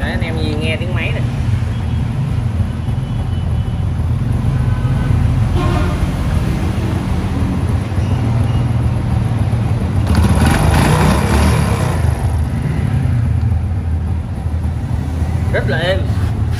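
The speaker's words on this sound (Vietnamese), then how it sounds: "Đấy anh em nghe tiếng máy này." A 2003 Honda Wave Alpha motorcycle engine runs at a smooth, steady idle close by, and is briefly revved midway. Someone talks over the engine throughout.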